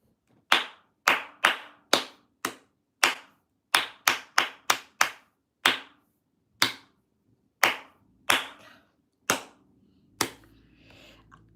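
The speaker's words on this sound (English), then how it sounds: "I'm gonna do it again, clap it again, okay?" Single pairs of hands clap out a rhythm during a live violin tutorial, about sixteen sharp, close claps spaced unevenly in a deliberate pattern, with brief silences between them and a faint voice near the end.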